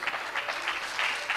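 A church congregation claps in praise, a brief burst of many hands applauding together in a reverberant room.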